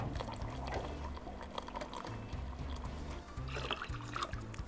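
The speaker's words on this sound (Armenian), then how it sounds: "Հիմա գնում եմ այստեղից դակ ջուր բերեմ, որպեսզի ավելացնեմ բրինձի վրա" Water being poured from a container onto rice in a cooking pot for Chinese pilaf, a steady trickling pour running throughout with kitchen background noise.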